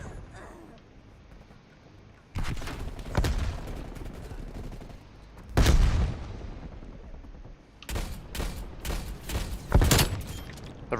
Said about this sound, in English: Fucking shotguns and stuff.